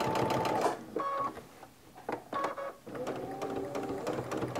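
A sewing machine stitches in bursts during free-motion machine quilting, its fast mechanical whirr starting and stopping several times at close range, quiet overall.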